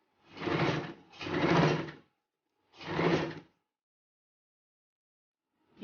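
A sewing machine stitching a kimono dress runs in three short bursts of under a second each, close and clear with silent pauses between them.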